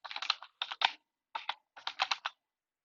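Keys tapped on a computer keyboard while a place name goes into a search box: quick bursts of close, crisp clicks in three short clusters with brief pauses between them, no voices.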